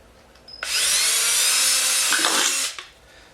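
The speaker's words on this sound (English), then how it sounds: "Drill a hole right in the center of the bottom." A power drill whirs loudly for about two seconds, a bright high-pitched grinding buzz as it bores a hole through the center of a pop can's bottom, then cuts off.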